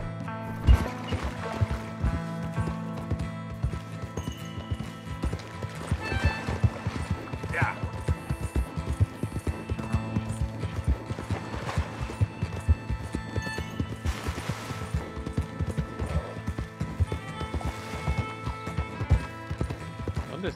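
A horse gallops steadily in Red Dead Redemption 2, with rapid, rhythmic hoofbeats running throughout and a voice talking over them.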